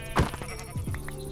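Minecraft sheep bleat in the game, with a sharp bleat near the start followed by a few softer, shorter bleats against quiet background noise.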